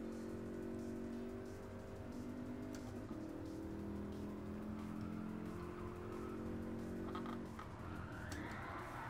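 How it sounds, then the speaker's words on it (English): Car drifting around a corner in the Gran Turismo Sport racing game, a steady engine drone with a faint tire squeal rising near the end, continuous and moderately loud with no talk. "we're going to drift around this corner"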